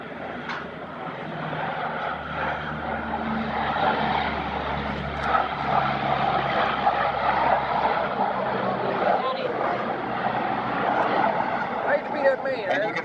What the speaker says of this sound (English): Ladies and gentlemen, the Combat Talon aircraft attempting a Fulton recovery pickup.